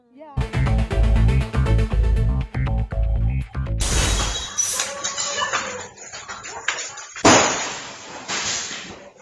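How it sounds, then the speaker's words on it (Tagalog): Glass bottles shattering as youths brawl and chase each other on a city street in Iloilo City before dawn, a sharp loud smash and crash amid loud booming music and crowd noise. "Pagtapon ng mga basag na bote, maririnig sa mga naghahabulang kabataan sa Iloilo City madaling araw nitong linggo."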